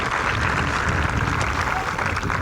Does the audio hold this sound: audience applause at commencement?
yes